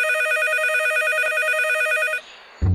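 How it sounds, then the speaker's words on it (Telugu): A cartoon telephone rings loud and close in a steady electronic trill for about two seconds, then cuts off, followed by a short quiet gap and a low thump. "ఎవరైతే బిజీగా ఉన్నప్పుడు ఫోన్ చేసేది?"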